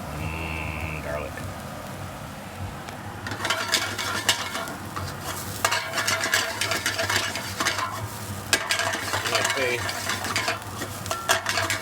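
Garlic and scallions fry and get stirred in a pan for brown and wild rice, giving a steady sizzle with scraping and clattering stirring strokes that grow busier after the first few seconds, while a person talks.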